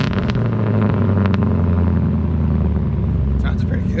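A 1999 Ford F-250 with a 5.4 engine swap revs through a straight pipe, giving a loud, close, continuous exhaust rumble that rises and holds.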